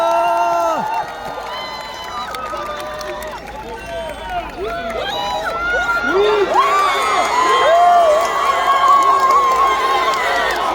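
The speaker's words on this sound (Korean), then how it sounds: "박수로 맞아주십시오." Crowd at an outdoor South Korean election campaign rally in Daegu cheering and clapping, loud and building, with many overlapping shouts, whoops and voices rising through the stretch.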